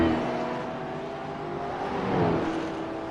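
NASCAR West V8 race car engine at COTA in the iRacing simulator: a steady, droning engine note that eases through a corner and then swells briefly as the car accelerates, heard alone.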